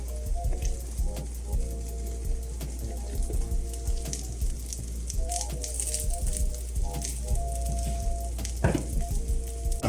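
Sucuk and vegetables sizzle steadily in a pan while an omelette cooks, a dense crackling fry with scattered pops and small stirring clicks, close and moderately quiet.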